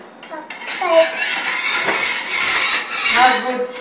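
A whisk clinks and scrapes against a bowl while pancake batter is mixed at home, in close, busy bursts with short pauses, and quiet voices in the background.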